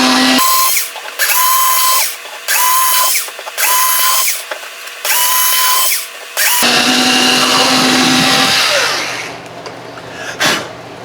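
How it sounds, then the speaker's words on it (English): Power drill boring through the bridge holes and old glue of a Fender Palomino guitar, five short whining bursts with pauses between, followed by a longer run that winds down. "we're gonna have to drill on through the glue and the other junk that's on the inside there"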